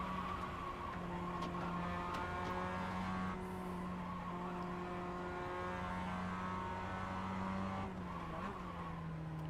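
A race car in a sim racing game drives a wide line, its engine holding a steady, sustained drone with faint tire scrub and small shifts in pitch throughout.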